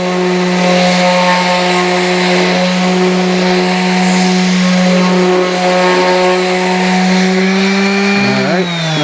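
Power sander with an 80-grit pad working the front of a wooden memorial plaque, a loud steady high-pitched motor whine with a rough abrasive hiss, running continuously near the mic and winding down at the end.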